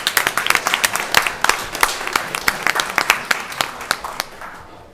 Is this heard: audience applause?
yes